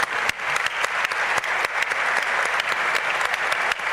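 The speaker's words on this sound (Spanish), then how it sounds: "Alonso Cepeda Salas, para quien pedimos un aplauso y un agradecimiento" Loud, dense applause from an audience at a political speech event in Mexico, a steady roar of many hands clapping with sharp individual claps standing out, sustained without a break.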